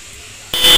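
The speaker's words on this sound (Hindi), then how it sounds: "ये नॉर्मल हॉर्न की आवाज़ है दोस्तों।" A motorcycle's normal stock horn gives one short, bright electric blare that starts abruptly after a moment of near silence and holds loud and steady to the end.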